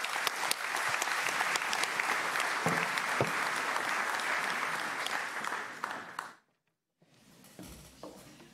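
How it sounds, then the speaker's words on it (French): Sustained applause from a graduation ceremony audience in a hall, a dense even clapping that runs for about six seconds, then stops abruptly, leaving quiet room tone with a few faint scattered sounds. "Nous applaudissons."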